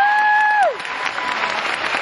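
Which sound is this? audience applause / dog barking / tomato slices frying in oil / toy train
audience applause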